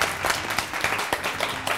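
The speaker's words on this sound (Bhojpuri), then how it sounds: "का बात तालियां हो रही हैं" Applause from a studio audience at a Bhojpuri television show rolls on steadily for a moment, dense clapping heard alone without any voices over it.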